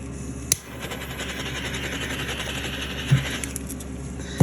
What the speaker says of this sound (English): my tumbler turner, which sounds like my dryer